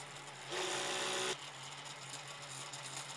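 A 3D printer with a granule-fed extruder prints a small 25 mm pinion gear through a 1 mm nozzle at 10 mm per second. A steady motor whir rises for about a second over a constant background hum, then drops away.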